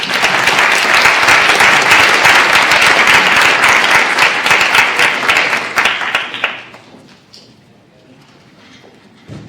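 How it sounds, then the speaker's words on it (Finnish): Audience at an entrepreneurship society event applauding a speaker, loud dense clapping for about six seconds that then quickly dies away into near silence. "niin isot aplodit Valtterille."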